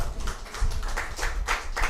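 Church audience clapping for the Bible during a sermon, a quick run of fairly even claps in a brisk rhythm, close and moderately loud, with no talk.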